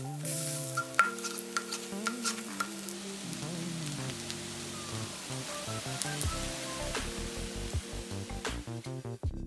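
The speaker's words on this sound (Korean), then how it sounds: "동그랗고 납작하게 모양 잡아주고 앞뒤로 노릇노릇하게 부쳐냈다." Soft oil sizzle from flat, round canned-tuna patties pan-frying until golden, with occasional clinks and scrapes, under light background music.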